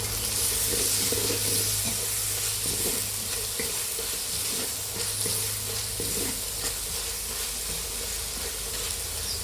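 Vegetables with coriander and mint sizzle steadily in a hot pan for biryani, a dense continuous frying hiss broken by the faint scrape of stirring, close and with no talking.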